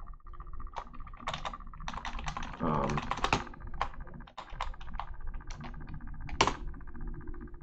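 Rapid keystrokes clatter on a computer keyboard, irregular bursts of clicks and a few heavier key thumps, close and fairly clear, with faint background sound between taps.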